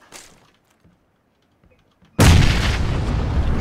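In the video game PUBG, a grenade goes off with a sudden loud, close blast after a quiet stretch of faint movement, then a rumbling roar of debris and echo.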